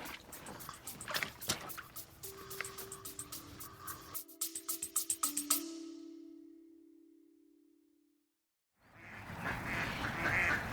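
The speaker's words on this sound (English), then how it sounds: "The ducks at High Ash Farm going in to roost for an evening." Farm ducks quacking in a rapid, clustered series as they go in to roost for the evening, close and fairly loud, then fading into near silence before background noise returns.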